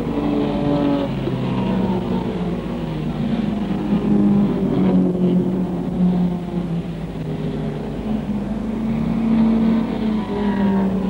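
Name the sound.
Ford Galaxie race car driving on 1963 racing circuit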